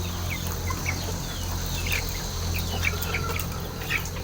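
Pigeons inside a loft scuffle and call, with faint cooing and flutters over a steady low hum, all fairly quiet and continuous.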